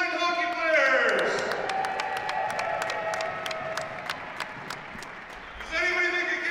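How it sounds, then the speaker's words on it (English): An arena crowd at a youth blind hockey tournament gives a long round of applause, dense clapping with some cheering over a sustained organ-like tone, the noise swelling and tapering off. "How about a huge round of applause for all our youth blind hockey players?"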